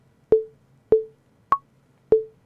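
A digital piano's built-in metronome gives four sharp electronic clicks at an even pace, with the third click pitched higher than the others.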